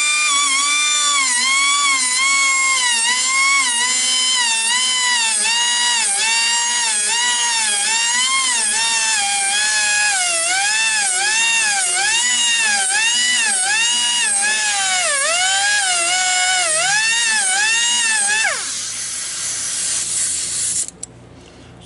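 A Woodmizer LT15 sawmill blade being sharpened gives a loud, continuous high-pitched grinding whine with a wavering, pulsing pitch for about eighteen seconds, then drops to a quieter hiss and stops.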